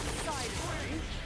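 Dense, continuous gunfire from the fighting game Ultimate Marvel vs. Capcom 3, a rapid crackling volley that fills the short moment at steady loudness, mixed with other game sounds.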